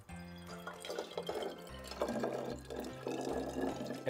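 Water pours steadily into a glass bottle, a gurgling, rising fill with a few drips, over a soft low background hum.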